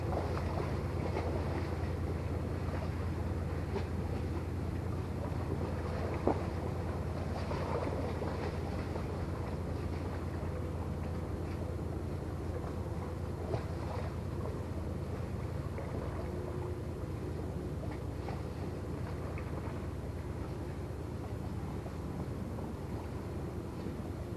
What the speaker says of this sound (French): vous entendez le bruit de l'eau, je pense